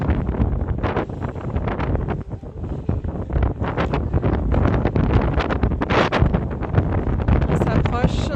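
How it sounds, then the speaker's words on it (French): Strong wind buffets the microphone near the beach in Copacabana, Rio de Janeiro, in loud, continuous gusts, with rumbling low roar throughout and faint voices partly buried underneath. "il y a vraiment beaucoup de vent aujourd'hui,"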